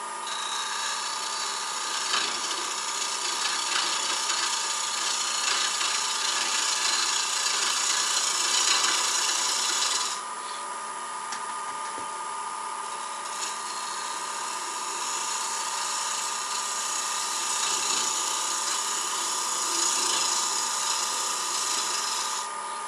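Wood turning on a lathe while a tool cuts a V-groove into a newspaper pot maker: a continuous, close, scraping whir with slight shifts in pressure and a brief dip midway.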